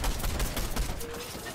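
Gunfire in Fortnite rattles as a quick, fairly faint volley of overlapping shots lasting just over a second, somewhat distant, with a faint tone lingering beneath.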